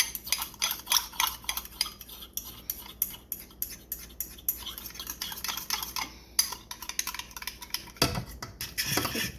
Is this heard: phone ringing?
no